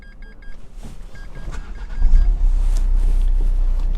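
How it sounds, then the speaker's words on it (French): A car engine cranks and catches at about the two-second mark, then settles into a steady low idle, with faint electronic dashboard beeps at the start. "Donc je vais démarrer la voiture pour pas que ça fasse de bruit."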